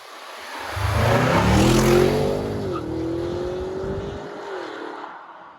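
Heavy Bentley Bentayga automatic SUV pulling away hard in sport mode with brake boost, a loud rising engine roar that climbs through gears with a brief shift dip, then tapers off.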